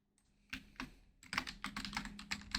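Computer keyboard typing while setting up a web page, a burst of close key clicks that starts sparse and then becomes rapid and steady, with no talking.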